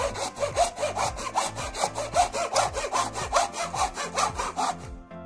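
Rhythmic hand sawing through pine, about two strokes per second in a steady back-and-forth, close and clear, stopping abruptly at the end.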